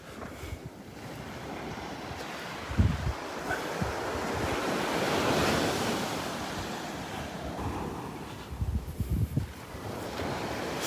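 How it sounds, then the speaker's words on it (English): Ocean waves break close to shore on a beach in Naples, Florida, a loud continuous surf wash swelling mid-way, with gusty wind buffeting the microphone and a few low thumps. "The waves were just a little too close to shore, breaking too close to shore."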